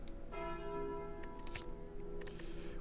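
A bell rings out with a long sustained metallic tone when the bell relic is picked in the Slay the Spire video game, clear and resonant, with faint clicks around it and no talking.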